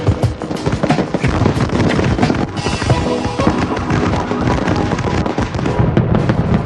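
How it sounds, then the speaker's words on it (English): Dense, continuous barrage of fireworks blasts from a large professional display, loud and overlapping with crackling bursts throughout, no talking. "hundreds and thousands of blasts could be planned and synchronized"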